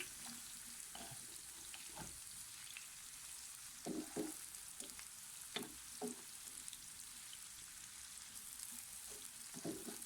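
Onions frying in hot oil, soft steady sizzle running throughout with occasional brief stirring clicks and scrapes, fairly quiet and unaccompanied by speech.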